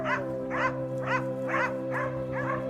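A pack of hunting dogs barks in a steady series of about six calls, each roughly half a second apart, moderately close over a constant low vehicle engine drone.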